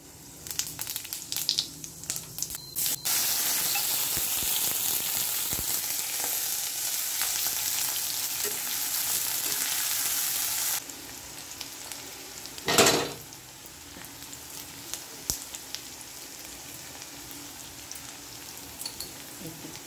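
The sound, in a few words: cumin seeds sizzling in hot oil in a wok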